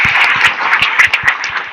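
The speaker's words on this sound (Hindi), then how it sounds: "एक बार सभी कार्यकर्ताओं के लिए जोरदार ताली बजा करके" An audience claps for volunteers at a Kabir spiritual gathering, a short burst of dense, steady applause with a few louder claps standing out.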